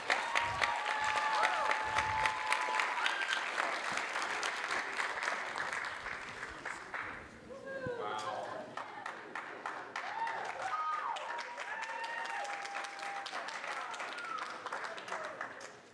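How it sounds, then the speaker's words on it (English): Audience applause at a high school winter jazz concert, dense steady clapping from a crowd that fades and then swells again, with a few voices and bursts of speech mixed in. "Give him applause."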